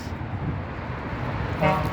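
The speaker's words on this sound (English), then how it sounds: "That car honking like scared me" A truck horn gives one short honk near the end, heard outdoors over steady traffic rumble and wind.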